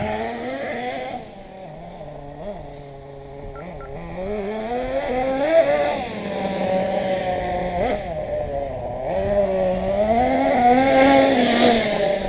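A CEN Genesis nitro RC truck's small engine buzzes and whines, climbing in pitch, dropping back and climbing again as it shifts through its gears, with no one speaking over the close, continuous drone.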